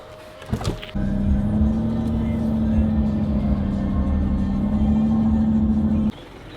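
A car being driven off a transport truck, its engine starting with a short burst and then a steady, loud low rumble that holds for about five seconds before cutting off abruptly.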